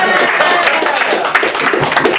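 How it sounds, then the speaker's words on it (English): An audience at a music show claps together, a dense, fairly loud patter of hands held steady for a couple of seconds, with voices mixed in. "go ahead and clap for her."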